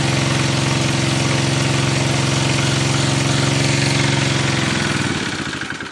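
A wood gas generator engine runs with a loud, steady, pulsing idle, then shuts down near the end as the rhythmic firing slows and fades out. No voices are heard.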